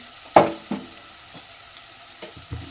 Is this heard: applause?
no